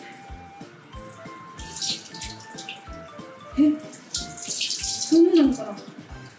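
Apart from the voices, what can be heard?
running water washing burdock root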